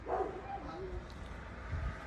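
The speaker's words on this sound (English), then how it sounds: "You might be able to hear the dog next door" A neighbor's dog barks and whines at a distance, a faint wavering yelp in a quiet room with a brief voice fragment.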